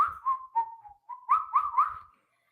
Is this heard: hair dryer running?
no